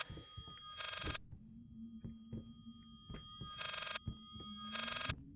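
Old-style telephone bell ringing in the horror game Layers of Fear, three short loud bursts of ringing separated by pauses over a low droning hum and scattered thuds.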